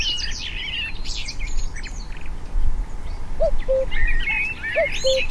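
Birds sing and call beside the River Maun near Mansfield: bright chirping phrases and short repeated cooing notes, fairly close, over a low steady outdoor rumble with no talking.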